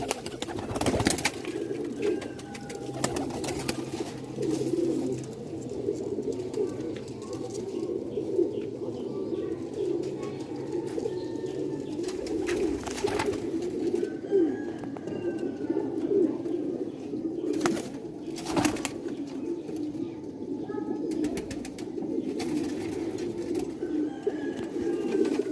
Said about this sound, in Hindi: माशाल्लाह काफ़ी सारे कबूतर हैं चिट्टे कांटे वाले